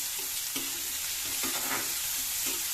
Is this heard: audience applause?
no